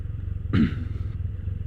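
A 2015 Can-Am Spyder F3 three-wheeler with a Rotax inline-three engine being ridden, a steady low throbbing engine note with a brief louder burst of rushing noise partway through.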